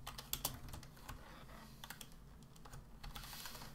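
Rapid computer keyboard typing with uneven bursts of clicks and keystrokes, close and moderately quiet, entering a value while setting up cargo lights on a tractor in a farming game.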